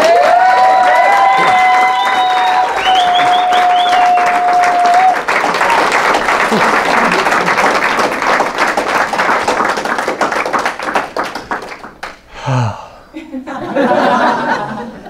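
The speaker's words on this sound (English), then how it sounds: "Thank you for that applause." Audience applause after a talk, a dense round of clapping with some chuckles that swells, thins into scattered claps, then a voice speaks and clapping briefly returns.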